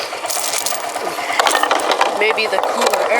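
A small engine idles roughly and unevenly, close to stalling, with a rapid ticking pulse running throughout. Someone speaks briefly over it.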